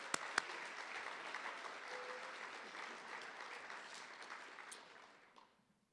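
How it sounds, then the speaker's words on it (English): An audience claps steadily at a scholarship awards night, an even wash of applause with a couple of sharp near claps at the start, fading out at the end. "we're going to get used to clapping tonight"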